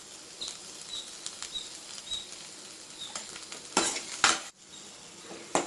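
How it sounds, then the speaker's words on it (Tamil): Onions sautéing in a pan with a pinch of salt toward golden brown, a close steady sizzle with repeated scraping and stirring strokes of a utensil, louder toward the end, no talk. "நல்லா வெங்காயம் வந்து நல்லா கோல்டன் ப்ரௌன் கலரில் வர்றது வரைக்கும் நல்லா நம்ம வதக்கணும்"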